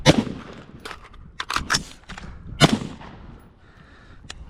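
MK18 rifle fired on an outdoor range during reload drills: a sharp shot, a pair of quick shots, then several more loud cracks spaced unevenly with brief gaps between, close and punchy.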